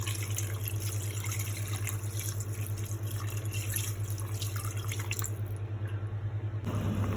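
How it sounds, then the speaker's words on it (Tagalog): Broth pours into a pot for pork sinigang, a steady liquid splashing and trickling over a constant low hum. No voices are heard. "Yan, lagyan na natin ng sabaw."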